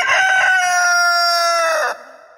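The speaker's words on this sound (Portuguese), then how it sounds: "Chama o galo cego aí!" A rooster crows once, loud and close, a long harmonic cock-a-doodle-doo held for nearly two seconds before cutting off to quiet.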